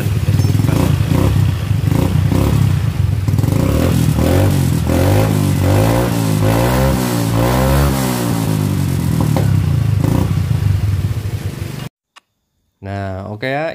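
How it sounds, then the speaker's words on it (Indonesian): A Yamaha Mio M3 scooter engine, repaired for a slipping kick-start, runs close and loud with a ticking, clattering idle and revs that rise and fall, then cuts out while someone speaks. "kita hidupkan motor"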